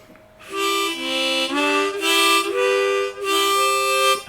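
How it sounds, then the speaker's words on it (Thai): Ten-hole harmonica draw notes played as sustained, reedy chords, shifting pitch in several steps with short breaks between phrases. "อันนี้เสียงดูดเสียงดูด"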